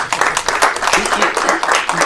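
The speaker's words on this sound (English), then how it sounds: "please stand up and give them a round of applause if you would" Audience applause at a talk, a brief burst of dense, steady clapping from many hands, close and loud.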